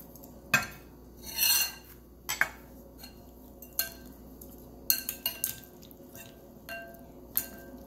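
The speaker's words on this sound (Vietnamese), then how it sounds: "Bây giờ mình đổ ra đĩa ha các bạn." Tossed salad with dry bread pieces slides and scrapes out onto a plate, giving a run of sharp clinks and rustly bursts against quiet gaps, close and moderately loud with no talking.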